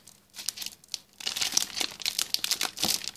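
A Doki Doki Squishy blind bag is torn open, starting with a few crinkles and then turning into a close, busy run of plastic tearing and crumpling lasting a few seconds, with no talk.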